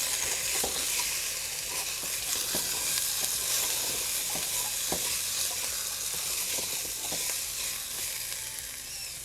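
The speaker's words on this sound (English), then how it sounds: "give it a stir." Diced potato cubes and a small onion sizzle steadily in a big pot for Korean braised potatoes, with scraping, clacking stirs breaking through the close, continuous frying hiss; no one speaks.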